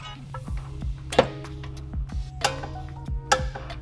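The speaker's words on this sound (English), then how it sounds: "then we'll use our torque wrench and torque it down to spec" Torque wrench on a VW MK5/MK6 coilover pinch bolt, tightened to 70 newton meters, giving a few sharp metallic clicks spaced roughly a second apart, close and clear over a low steady hum.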